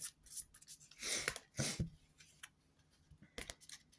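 Tarot cards being shuffled by hand, heard as a few quiet papery riffles and rubbing swishes, with one louder burst near the start and a short flutter near the end, otherwise fairly hushed.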